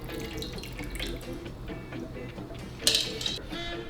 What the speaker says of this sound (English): we will take our strainer, pour the vodka over the top here.